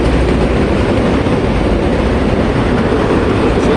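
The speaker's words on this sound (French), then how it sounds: "on voit ces trains-là ici tous les jours" Train rolling past on a track surrounded by the Dorval neighbourhood, a loud, steady, close rumble of wheels and carriages holding constant throughout with no pause or voices.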